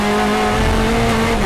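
BTCC touring cars at a 2023 race, a Toyota leading the pack on the road, roar past together in a steady loud engine drone with tonal whine throughout.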